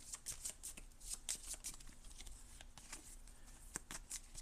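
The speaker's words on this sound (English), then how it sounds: "we take the click cards, these cards, and then we shuffle these in" A deck of playing cards is shuffled up close, giving a run of crisp riffling bursts and soft flutters with brief pauses between them, heard alone without talk.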